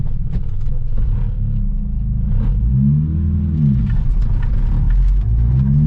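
A stock-engine Mitsubishi with its restrictor removed, at a driving-control course, accelerates hard: a loud, close engine roar rising steadily in pitch with a rough rumbling texture, no talk over it.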